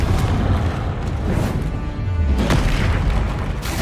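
Deep booming blasts from explosive spells in the Hogwarts Legacy video game, loud and continuous, with several bursts rolling into one another during a magic duel.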